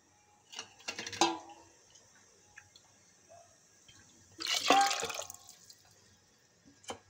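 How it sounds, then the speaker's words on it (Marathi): Half a glass of water goes into a cooking pot of dal tadka in two short splashing bursts separated by near silence, close and moderately loud. "अर्धा ग्लास पाणी टाकलं त्यामध्ये"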